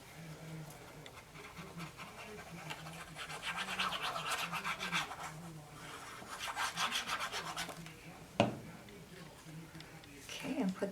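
Aluminum foil rubbed onto a paper card, a soft repeated scratchy rasping in close strokes, faint and steady, with a sharp tap near the end and a person talking over it.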